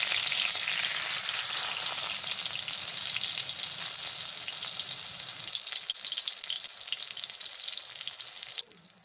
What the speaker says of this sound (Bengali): পটলটা ভাজতে দিয়েছিলাম